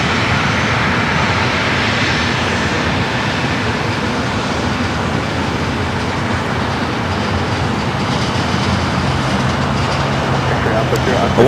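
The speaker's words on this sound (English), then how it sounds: "Hawaiian Flight 853 coming in from Honolulu, an A321neo." A Hawaiian Airlines Airbus A321neo arriving from Honolulu lands at LAX, heard as a steady, loud broadband jet roar that holds for several seconds on the airport's south side.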